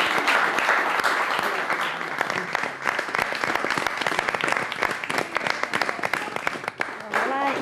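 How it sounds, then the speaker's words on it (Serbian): A studio audience at a TV talk show bursts into loud, sustained applause that fills the clip and swells again near the end, with a voice speaking over the clapping. "Molim vas veliki aplauz za Ivanu Milenković."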